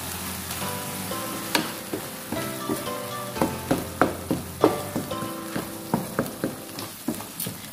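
Chicken cooking in a pan, a steady close sizzle with a string of quick rhythmic taps and scrapes from stirring.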